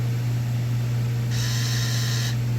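Hoto rechargeable electric screwdriver running in reverse, a steady low motor hum alone with a thin high mechanical whirr layered on top for about a second in the middle.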